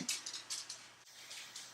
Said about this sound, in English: If you hear clicking in the background, that's my dog walking around